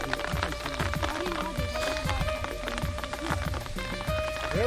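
Rain patters steadily on surfaces outdoors, a dense close pattering with scattered thuds and a faint tonal hum underneath, and no clear speech.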